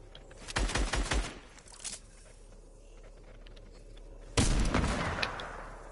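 Sniper rifle fire in an online shooter game: a cluster of sharp cracks early on, a lone softer shot after, then one loud blast near the end over low ambient hum.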